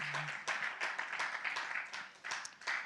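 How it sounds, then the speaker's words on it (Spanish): A church congregation applauds the Lord during a sermon, a faint, steady round of rhythmic clapping heard from a distance for about three seconds. "Un aplauso al Señor fuerte"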